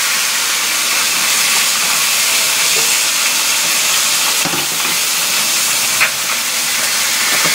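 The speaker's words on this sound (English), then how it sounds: "Alright, lobster time, right in. Look at that steam." Steam hisses loudly and continuously while fresh lobster sits in a sizzling paella cooking on a Big Green Egg grill, a dense broadband hiss with faint crackles throughout.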